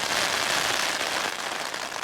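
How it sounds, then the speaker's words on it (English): A constant patter of rain falling on a bivy bag while wild camping on Dartmoor, a dense, even hiss with scattered droplet taps. "But the rain is falling,"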